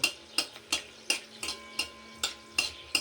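Whole garam masala of cinnamon, cloves and cardamom stirred in a hot pan for a Bengali alu matar ghugni, with about nine sharp, evenly spaced scraping knocks of a spoon over a faint sizzle.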